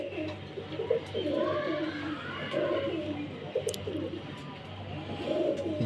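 Several female pigeons coo in soft, repeated low phrases, close by, over a faint steady background hum.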